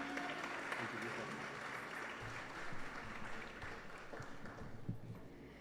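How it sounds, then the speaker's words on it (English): An audience at a Diwali program at a Krishna temple gives a round of applause, with dense, steady clapping that sounds somewhat distant and holds throughout. "Yes, give her a round of applause again"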